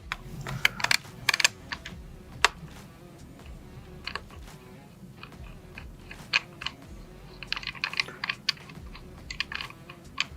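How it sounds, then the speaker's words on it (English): Unscrewing the barrel retaining nut on a shotgun fitted with a Streamlight TL Racker: a string of close, sharp clicks and small metallic ticks in uneven bursts, with no talking. "Unscrew the barrel retaining nut."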